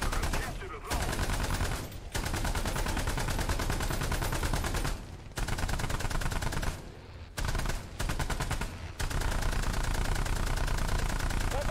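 Sustained automatic gunfire in a war video game, loud and close, with long rattling bursts broken by brief gaps and an engine-like drone running underneath.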